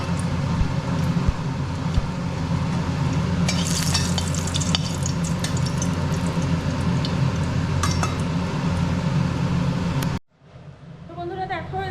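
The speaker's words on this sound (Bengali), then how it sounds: "এই 2টো শুকনো মরিচ তেলে দিয়ে দিলাম" Two dried red chillies fry in hot oil with a loud, constant sizzle and scraping stirs and utensil clinks, then it cuts off abruptly, followed by a brief quieter tail.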